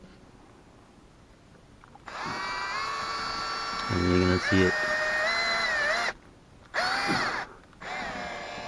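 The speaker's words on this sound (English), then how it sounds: "And go ahead and drill a hole." A power drill whines as it bores a hole through the roof of a Ford F-150 from inside the cab, with steady loud drilling that pauses and restarts, a few brief clunks, and someone talking over it.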